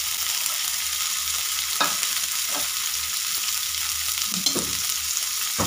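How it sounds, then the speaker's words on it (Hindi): Capsicum, onion and tomato sautéing in a pan, a constant soft sizzle with a few sharp stirring scrapes, close by. "इस तरह से इसको हम सॉटे करेंगे"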